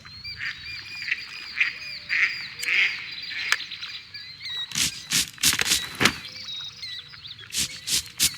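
Bird squawks and honking calls from the video game The Legacy 3: The Tree of Might, repeated bursts over a steady ambient background, with sharper loud cries clustering toward the end.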